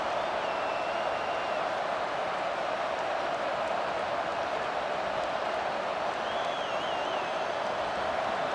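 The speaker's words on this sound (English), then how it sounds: "This crowd, full throat, splitting the eardrums" A stadium crowd in the EA Sports College Football 25 video game keeps up a constant roar of cheering, a broad wash of noise with a couple of faint whistles rising over it.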